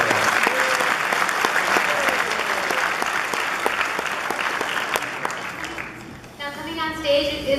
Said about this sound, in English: So we need a big round of applause for that.